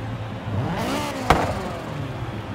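Turbocharged Acura RSX Type-S in Forza Horizon 3 revving loudly, the engine note sweeping up and back down with a sharp turbo burst near the middle, close and prominent.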